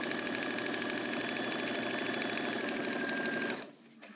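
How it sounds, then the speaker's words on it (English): A sewing machine stitches steadily along dashed lines printed on paper for a half-square triangle piece, a fast even whirring hum that runs continuously before stopping abruptly near the end. "you'll continue following these lines until all of the dashed lines have been stitched"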